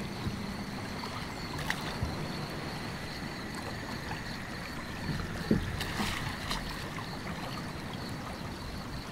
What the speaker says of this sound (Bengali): নৌকা নদীতে ভেসে পড়ে